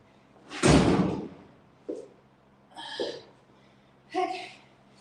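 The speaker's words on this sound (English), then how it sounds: "I had to shut the door." A home door slams shut once with a loud, heavy thud, and a few softer knocks and rattles from the door follow at intervals in a quiet room.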